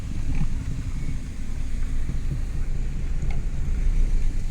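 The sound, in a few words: wind blowing outdoors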